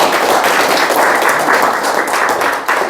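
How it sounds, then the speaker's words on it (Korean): Seminar audience giving a warm round of applause to welcome a lecturer on Yi Sun-sin's life, a full, loud, continuous burst of many hands clapping that begins to taper at the end. "여러분 뜨거운 박수로 맞이해주시고"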